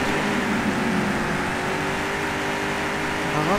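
Racing car engine in the futuristic PC racing game POD Gold, a loud continuous high-revving whine held at speed and filling the moment.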